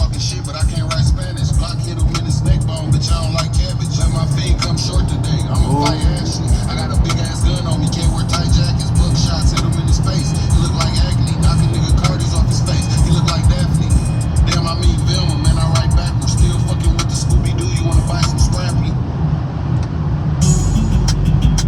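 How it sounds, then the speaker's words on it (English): An Infiniti Q50 driven fast on a freeway gives a loud, steady cabin rumble of road and engine noise, with faint repeated thumps from road bumps, all under continuous music and voices. "You hear the bumps on the freeway?"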